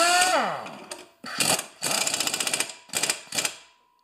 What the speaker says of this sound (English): this is a very weak air gun